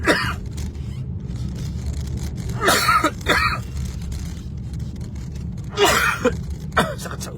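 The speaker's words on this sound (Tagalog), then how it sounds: "Every time I cough, it's as if my head will explode." Several harsh coughing bursts break out in two clusters, close and loud, with quieter breathing and background hum between them.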